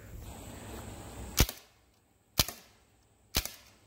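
A SIG Sauer MCX rifle fires three sharp, loud shots into a coin machine, spaced roughly a second apart, each with a short ringing tail over a low background rumble.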